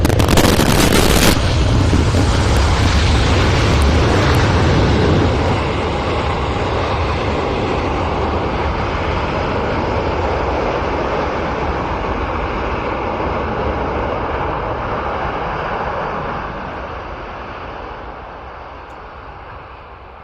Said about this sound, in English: Well, the impressive sight and sound of a C-17